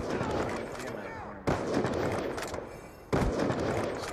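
Two sharp, loud gun bursts from Black Ops 2 crack out about a second and a half apart, each followed by a decaying rumble, with busy game noise underneath.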